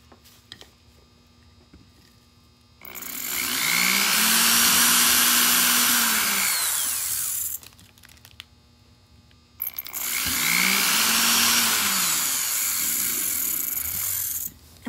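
A small power drill bores into cast resin ornament pieces in two sustained whining runs, each spinning up and winding down, close and loud with a quiet pause between them.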